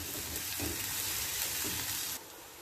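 Onions fry in a pan with a steady, soft sizzle that runs evenly, then drops a little in level near the end.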